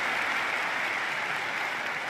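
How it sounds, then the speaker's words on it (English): Audience applause playing in a video, a continuous even wash of many hands clapping, heard at moderate level with no voices on top. "They applaud."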